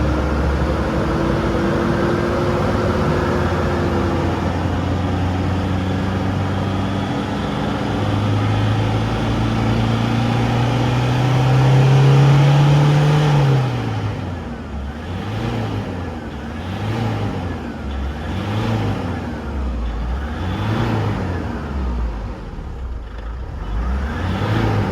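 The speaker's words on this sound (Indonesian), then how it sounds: "Kita coba gas di 2000 rpm, 2000 sampai 3000 ya, tegas." A Toyota Fortuner with a 2KD diesel engine, which has a fault that makes it stall while driving, is revved held between 2000 and 3000 rpm. A loud, close engine rises and holds, then drops into a rhythmic pulsing idle-rev pattern.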